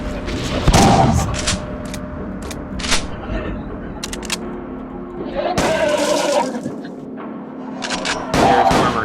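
Gunfire in the horror shooter Underhell rings out as sharp, loud, close shots, separated by short pauses and interleaved with other game sounds.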